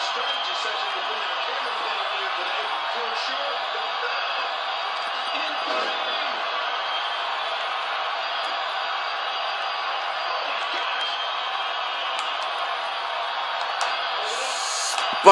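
Steady, continuous crowd roar from a WWE 2K14 wrestling match in Universe mode, a wide wash of cheering and whooping that holds at an even level throughout, with commentary-like voices blended in.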